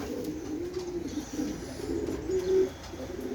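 Pigeons on an evening balcony coo repeatedly in soft, low, rolling phrases close by, one call swelling slightly louder near the end.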